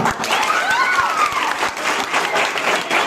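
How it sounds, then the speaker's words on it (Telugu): At a college computer science freshers party, an audience claps in a loud, dense round of applause that holds steady for a few seconds, with crowd noise underneath. "ఒక్కసారి బిగ్ క్లాప్."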